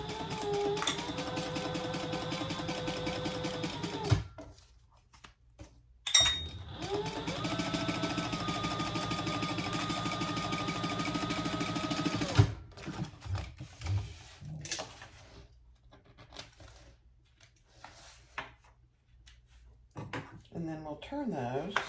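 A sewing machine stitches crossbody bag panels together with a magnetic snap in two long, steady whirring runs, then comes a stretch of clicks, fabric handling and mechanical clatter as the work is adjusted.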